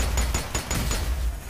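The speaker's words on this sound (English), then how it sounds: "I hear gunshots, but I can't actually see." Gunfire in the co-op shooter Strange Brigade cracks out in several quick, loud shots with a heavy low rumble underneath, spaced a fraction of a second apart.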